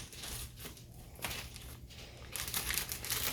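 Plastic bags crinkle and rustle steadily up close while two slices of chicken are packed into each bag in a home kitchen, getting louder toward the end.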